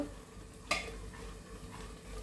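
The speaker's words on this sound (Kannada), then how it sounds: "ಅದಕ್ಕೆ ನಾನೀಗ ಮಸಾಲವನ್ನು ಫ್ರೈ ಮಾಡ್ತೇನೆ" Onion masala frying in a pan for mutton curry gives a quiet, steady sizzle, with one sharp scrape of a spoon against the pan near the start.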